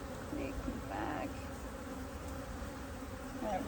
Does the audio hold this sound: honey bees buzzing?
yes